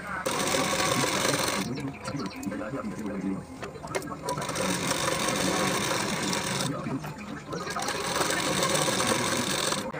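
A sewing machine runs in steady bursts while stitching a blouse seam, with brief pauses between runs, close and fairly loud; someone talks over it.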